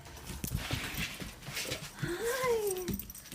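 Puppies greet their owner coming home with a rising, wavering whimper and excited yelps amid scrabbling paws, close by and moderately loud.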